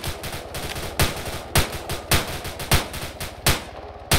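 Rapid gunfire in ARMA 3, a steady stream of close shots punctuated by several louder heavy reports at roughly half-second intervals, loud and continuous with no talking.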